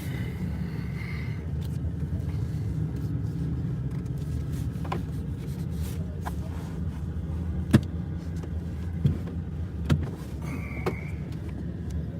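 A twin-turbo Ford F150 pickup truck at a raceway, heard as a steady, low engine and road drone, apparently from inside the cab, with a few faint clicks and knocks and no talk.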